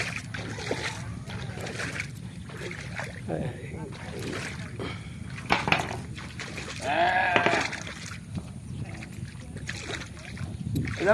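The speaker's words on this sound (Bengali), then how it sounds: "রশি টেনে পার হচ্ছে খেয়া নৌকা" A rope-pulled ferry boat crosses a monsoon-swollen river at a village ghat. Faint water sounds and soft knocks are heard while people talk nearby, with a few louder splashes and creaks.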